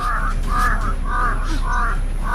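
Crow cawing five times in an even, steady series of harsh calls, fairly close and loud over a constant low background hum.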